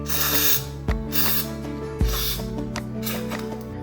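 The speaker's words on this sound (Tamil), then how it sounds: "இதுலேயும் நம்ம ஸ்ப்ரே பண்ணிடலாம். WD-40 வந்து காயிலுக்கு ஒன்றும் ஆகாது." WD-40 is sprayed onto CNC spindle parts in a few loud, close hissing bursts, each aerosol blast separated by brief pauses over a background hum.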